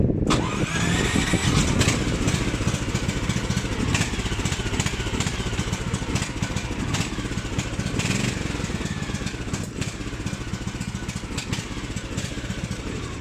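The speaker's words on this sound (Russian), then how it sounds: "в конце еще раз вам покажу, как в заводском исполнении работает снегоход" An IRBIS Tungus 600LE snowmobile engine runs in stock form, giving a loud, steady, dense mechanical roar with a constant rattle that continues throughout without pause or talk.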